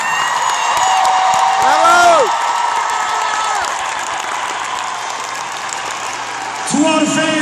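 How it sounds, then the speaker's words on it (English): Concert audience at a show applauding and cheering, a broad wash of clapping and whoops rising briefly near the end, with an amplified voice speaking over it. "Please give them a round of applause."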